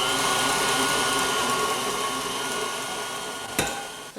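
Electric hand mixer whirring steadily through shepherd's pie ingredients with an egg added, a loud continuous motor drone that ends in a brief clatter near the close.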